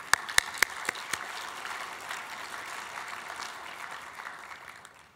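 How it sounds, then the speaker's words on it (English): An audience in a hall applauds during an academic surgery presidential address. A few loud, close claps open it, then softer, more distant applause spreads across the room and slowly fades out. "and just that requires a round of applause for Becky."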